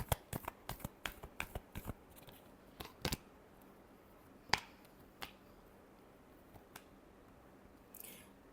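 Tarot cards being shuffled close up, a quick run of crisp riffling snaps and slaps in the first few seconds, then a few scattered single flicks and soft shuffles with quiet gaps between.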